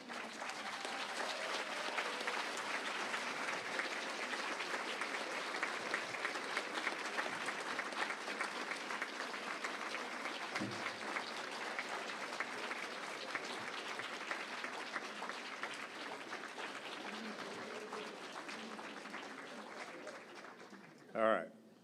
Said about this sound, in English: give them the biggest applause they've ever heard